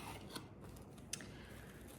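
A pair of sewing scissors snips quietly, two brief crisp cuts a moment apart against a hushed room background.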